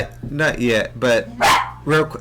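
A dog barks close by in a rhythmic run of four or five loud barks, overlapping someone speaking during a podcast recording.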